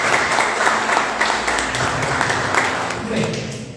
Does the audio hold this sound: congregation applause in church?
yes